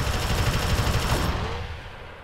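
Rapid automatic gunfire from the Alien Swarm video game rattles in a dense burst, loud and close, then cuts off and trails away in the last second.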